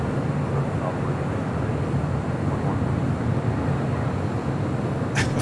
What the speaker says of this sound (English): A380 Super heading this direction.